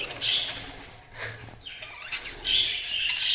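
Caged budgerigars flap their wings in short, close bursts, mixed with bright chirps and twittering, and no talk is heard over them.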